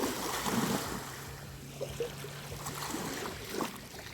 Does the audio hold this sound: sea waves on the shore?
yes